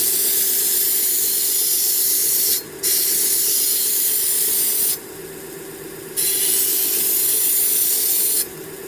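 A Vevor 1x30 belt grinder running at about 1500 RPM sharpens a knife blade in three loud, close grinding passes, a steady hissing rasp that briefly lightens between strokes, with no voices.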